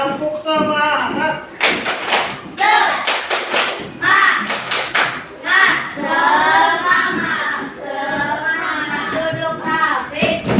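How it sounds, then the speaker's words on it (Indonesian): A classroom of pupils performs the tepuk semangat spirit clap, with bursts of sharp patterned claps alternating with the children chanting together, close and loud. "Tepuk semangat."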